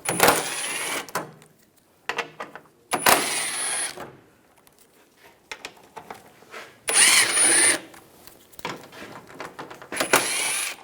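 An 8mm socket on a ratchet or driver takes out the bolts of an underbody shield on a 2006-2009 Mercedes-Benz E350, several short loud bursts separated by pauses and quiet rustling.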